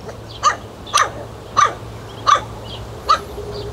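A female stray dog in a forest barks five times. The barks are sharp and evenly spaced, moderately close, over a low steady background hum.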